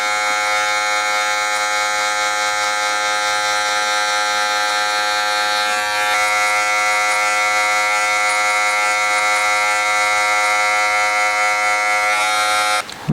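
Electric hair clippers buzz steadily and close up during a haircut, a loud continuous whine held through the whole stretch with brief flicking strokes and no talk, cutting off abruptly at the end.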